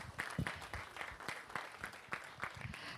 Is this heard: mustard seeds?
no